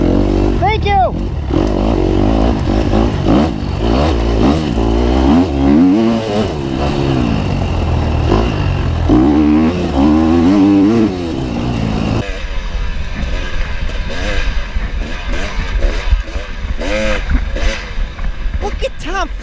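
A two-stroke motocross bike races at a Western New York off-road round, its engine revving and wavering in pitch close by, mixed with other bikes and someone talking over much of it.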